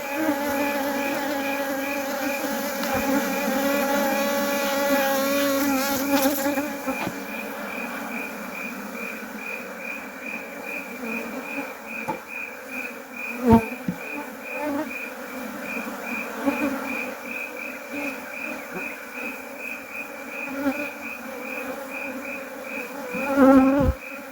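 Honey bees buzz around an opened hive at a Nigerian apiary, giving a dense, continuous drone close by, with occasional knocks and handling bumps from the hive work and no voices.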